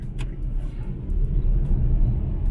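A Daihatsu Mira kei car drives along, its small engine giving a steady low rumble with road noise that swells slightly toward the end, no voices present.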